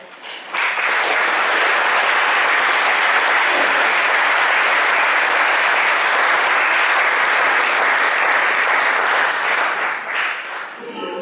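Applause from an audience at a concert of classic Italian songs in Kwadijk, a dense, even burst of clapping that starts abruptly and holds steady for about ten seconds before easing off.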